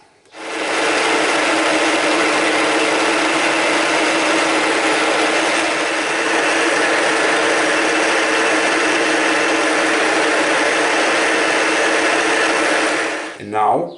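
Power tool hollowing out a metal part for a rotary valve air engine, a steady, loud grinding whir that runs unbroken for about twelve seconds before winding down.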